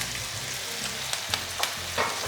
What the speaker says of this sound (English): They're sizzling nicely.